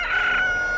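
A rooster crows close and loud in one sustained, strained call that holds steady and then fades slightly toward its end, with no talk over it.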